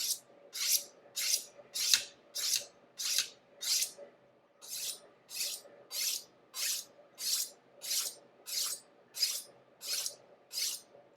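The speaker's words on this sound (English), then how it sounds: "So, first thing we're going to do when we cut anything is what? Sharpen our knife." A kitchen knife is drawn along a sharpening hone in a steady series of about sixteen crisp metallic strokes, evenly spaced and close up, with no talking.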